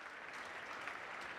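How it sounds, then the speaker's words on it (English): An audience at the PlayStation E3 2018 showcase claps, heard as faint, distant applause that is thin and brief but steady throughout. "I love how people didn't know whether they should be clapping or not"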